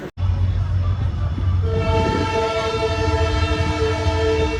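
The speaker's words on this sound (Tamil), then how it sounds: "ட்ரெயின் அவ்வளோதாங்க, இங்கேருந்து ராமேஸ்வரத்துலேருந்து வெளியில் கிளம்பிடுச்சு." A train pulling out of Rameswaram station sounds a long, sustained horn over a loud, continuous rolling rumble, with the horn swelling in partway through and holding to the end.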